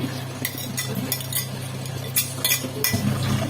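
Chicken being tossed with sauce in a metal bowl for a meat box, with repeated close clinks and scraping of a utensil against the bowl over a steady low hum.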